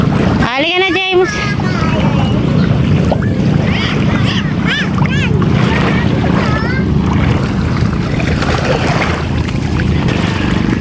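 A boat chugs across the water with constant wash and wind noise, while voices talk and call out over it.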